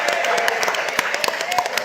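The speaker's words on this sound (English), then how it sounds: "Give him a round of applause, please." An audience at a Grenada cultural and creative industries conference applauds, a brief spell of scattered, fairly close handclaps with no talk over it.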